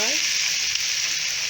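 Flour sizzling in a pan as the base for a white sauce, a bright steady frying hiss held close throughout the brief moment.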